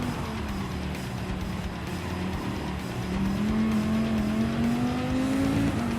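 Race car engine in a racing video game at Daytona, a steady close droning whine that climbs gradually in pitch as the car accelerates, with a faint higher tone layered above and no talking.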